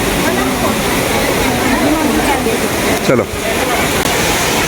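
A small waterfall at Chakra Theertham spills between hills, giving a constant loud rushing roar close by, with a person speaking briefly over it.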